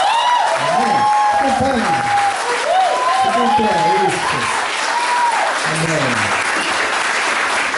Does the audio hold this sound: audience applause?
yes